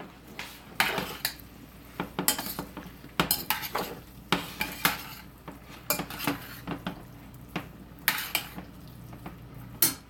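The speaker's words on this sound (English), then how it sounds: "Stir that up really well." Spoon scraping and clinking against a pot while stirring strained carrots and peas in a home kitchen, with repeated sharp metallic knocks in an uneven rhythm, close and moderately loud, without talk.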